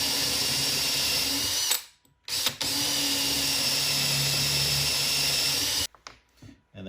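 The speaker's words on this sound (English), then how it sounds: "I'm going in here with a 5/16 Forstner bit." A power drill bores with a 5/16 Forstner bit during a sewing machine table build, running loud and steady for a couple of seconds, then a short pause, a brief burst, and a longer continuous run before stopping.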